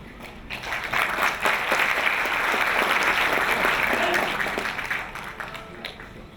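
A large audience at a peace event in Myanmar gives a big round of applause for a Christian bishop, a dense wash of clapping that swells, holds steady and then fades, with no talk over it.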